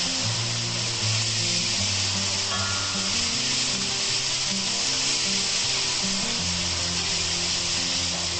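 Sliced onions frying in a pan for a water leaf thoran, a steady close sizzle running throughout with no talk, the low background murmur staying continuous.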